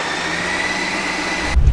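A Ninja CREAMi ice cream maker runs its respin cycle with a loud, steady motor whir and high hum, ending with a deeper rumbling thump as the blade shifts near the end.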